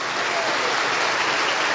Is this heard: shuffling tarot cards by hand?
no